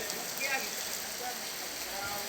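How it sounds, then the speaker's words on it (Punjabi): Hail pours down around a petrol pump canopy in a Punjab town, a dense, steady hiss and patter of ice on surfaces, fairly soft and unbroken throughout. "ਗੜੇ ਬਹੁਤ ਜ਼ਿਆਦਾ ਨੇ ਜੀ"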